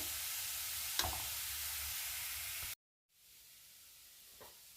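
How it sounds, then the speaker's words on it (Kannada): Bitter gourd frying in a pan gives off a steady, hissing sizzle that cuts out abruptly for a moment, then resumes more quietly. "ನೋಡಿ ಈ ಥರ ಫ್ರೈ ಆದರೆ ಸಾಕು ಅದರಲ್ಲಿರೋ ಕೈ ಅಂಶ ಎಲ್ಲ ಹೋಗಿರುತ್ತೆ"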